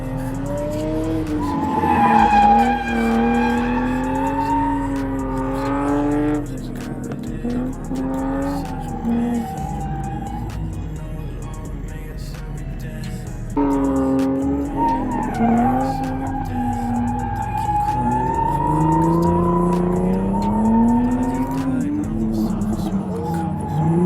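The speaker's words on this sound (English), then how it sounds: "Got an E36 drifting out there" A BMW E36 drifting at Grange/Apple Valley Speedway: a loud engine revs and wails in long rising and falling pulls while tires squeal and skid through repeated slides, with scattered voices underneath.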